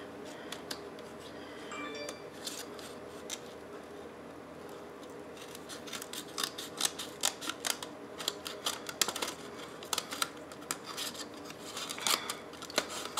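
Scissors snip through cardstock while a shaker card is being made, giving a run of sharp, close, irregular cuts that grow busier toward the end.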